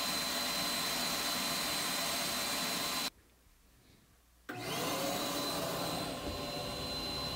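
A workshop vacuum runs as a loud, steady roar that drops sharply to a muffled hum when it is shut inside a noise-reduction cabinet, then returns to full loudness moments later.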